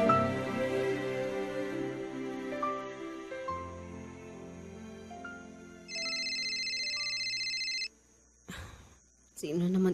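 Telephone ringing with a short electronic trill partway through, following fading music and leading into a brief burst of noise.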